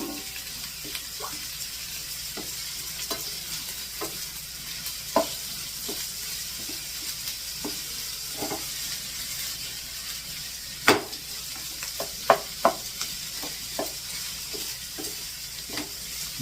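Onions frying in a pan crackle with a steady low sizzle as a spatula stirs them, sending out scattered taps and a few sharp knocks against the metal.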